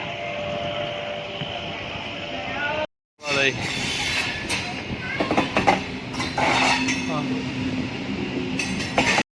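Railway station ambience with train rumble, clanking and metallic clinks, after a brief cut; voices and crowd noise mix in.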